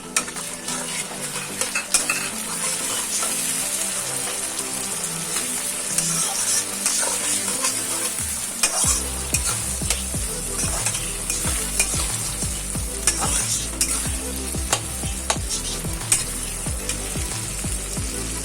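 Chopped tomatoes fry with browned onions for mutton keema, a constant sizzle under repeated scraping and clinking of a spoon against the pan, the stirring growing busier and louder partway through, with no talk.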